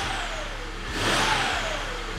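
A BMW 335i wagon engine runs steadily nearby with no misfire, a brief rev swelling louder around the middle before settling back to a constant hum.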